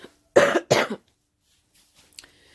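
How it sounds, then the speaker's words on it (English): Two harsh coughs close together, near and fairly loud, then quiet with a faint rustle and a small click. "Sorry about coughing."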